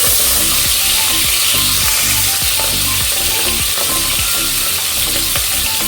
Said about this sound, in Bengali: মাশরুমগুলোকে আমি একটু ভেজে নেব।